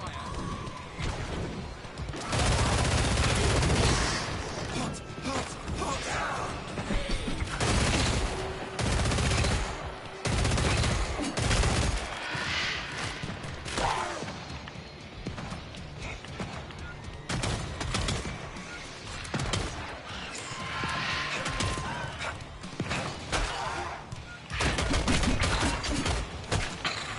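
Sustained gunfire in Killing Floor 3, with dense bursts of rapid automatic shots and loud blasts repeating throughout, heavy crashes mixed in, and a voice talking intermittently over the combat.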